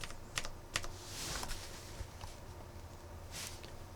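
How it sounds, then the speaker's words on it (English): Keys on a computer keyboard are pressed in a few scattered, quiet clicks over a faint background hiss, with no talk. "press page down on your keyboard"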